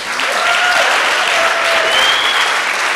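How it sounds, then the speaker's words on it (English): Sustained applause from an audience at a healing summit in Chicago, dense and loud throughout the whole stretch, with a few thin whistle-like tones riding above the clapping. "just give everyone another round of applause"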